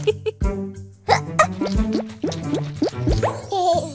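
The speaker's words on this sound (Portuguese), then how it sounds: "que tal beber um copo d'água" Cartoon-style water sounds as a glass of water is poured and drunk for hiccups: bouncy plopping gulps and drips in quick succession, loud and close, with playful tonal boings.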